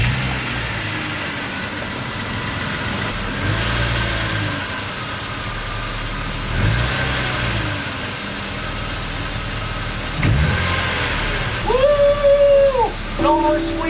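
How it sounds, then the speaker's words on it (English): A BMW E36 starts after a full cooling system rebuild meant to cure a squeak, then settles into a steady mid-pitched idle, with a few brief revs near the end and a background hum. "I think we're ready to turn on the car, and we will finally find out if we fixed that annoying squeaking issue"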